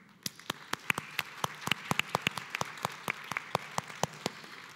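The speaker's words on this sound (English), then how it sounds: "I would kindly ask the audience for a round of applause for" Sparse, scattered claps from a small conference panel audience, individual sharp hand claps spread unevenly over a few seconds, fairly faint and distant.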